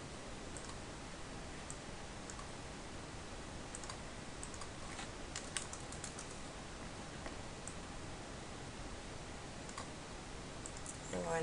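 Keys are typed on a computer keyboard while working in Photoshop, producing soft, quiet clicks in a brief irregular burst over a low background.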